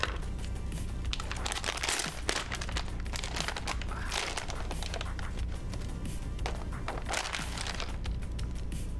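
Plastic packaging around a spool of CooBeen silk blue PLA 3D-printer filament crinkles and crackles continuously as it is handled and torn open up close, a dense, busy rustle with no speech.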